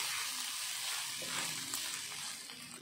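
Ajwain (carom seed) rice frying in a pan, a steady broadband sizzle with faint stirring scrapes, continuous and close with no voices.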